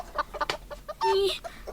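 Chickens cluck in a quick series of short, close calls, followed by a longer drawn-out squawk and a few more clucks, loud and clear with no talking.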